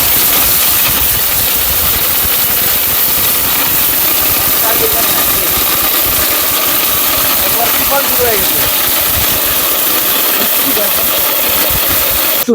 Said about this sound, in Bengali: এটা সেই ভাইরাল তুফান ব্লেন্ডার বারোশো এর বারোশো ওয়াট